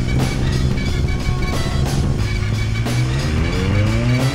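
A McLaren 600LT V8 sports car accelerates in second gear, its engine note rising steadily in pitch over a loud, continuous mechanical roar with road noise, close and without any talk.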